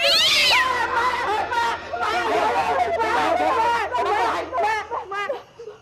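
A cat meows repeatedly in drawn-out, wavering cries, mixed with overlapping voices talking nearby.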